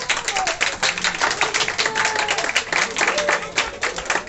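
An audience claps for the evening's singer at a guinguette-style party, with dense, steady, fairly loud applause throughout and faint crowd voices underneath.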